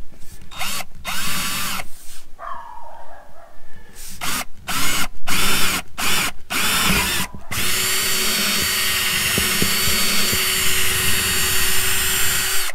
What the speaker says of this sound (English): So we're going to start with a pilot hole here.